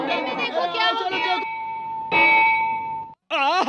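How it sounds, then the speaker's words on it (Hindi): A long-silent temple bell rings in a small Indian village, with a clear ringing tone sustained over excited voices, one strong strike that decays and then stops, followed by an exclamation. "इतने सालों से बंद पड़ा घंटा अब बज गया"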